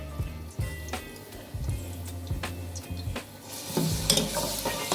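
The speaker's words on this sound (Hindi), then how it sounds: "हमारे पास अदरक लहसुन का पेस्ट है 2 खाने के चमचे भर के। इसको हम हल्के से फ्राई" Ginger garlic paste fries in a pan for beef biryani, a soft sizzle broken by repeated spoon scrapes and knocks against the pan, growing louder toward the end.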